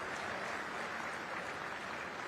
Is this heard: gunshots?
no